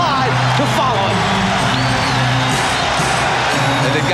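A Portland basketball arena crowd cheers and roars continuously during an NBA Finals game, with a commentator talking over the dense noise.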